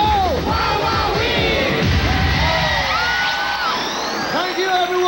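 Studio audience at a Filipino noontime game show cheers and applauds loudly and continuously, with whoops and shouts over a music bed; a host's voice comes through the crowd noise.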